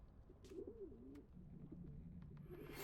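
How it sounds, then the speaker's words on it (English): Owls arriving in the Hogwarts Legacy video game, heard as soft, mid-pitched cooing calls that wobble and repeat across a few seconds over a steady game ambience, with a faint flutter near the start. "Let's let the storm of owls hit us real quick."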